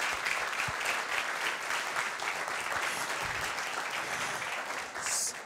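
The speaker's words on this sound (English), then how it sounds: "Give yourselves a round of applause." Youth audience applauding at a morning event, dense crowd clapping filling the room, steady and lively before tapering slightly, with a brief sharper burst near the end.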